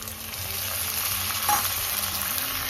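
Chopped onion, green chillies and tomato fry for an egg curry, giving a steady, even sizzling hiss from a hot pan, close and continuous with no talk.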